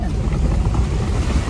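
A Toyota Wigo drives through a shallow river in Palawan after a rough road, its tyres churning the water in a loud, continuous wash of sloshing and splashing with wind buffeting the microphone.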